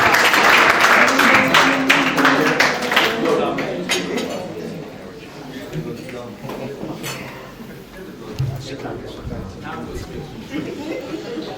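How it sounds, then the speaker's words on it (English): Wedding guests at a reception applaud the best man, a loud burst of clapping from the crowd that peaks early and then thins out into scattered claps under murmured chatter. "a round of applause for your best man, Jason."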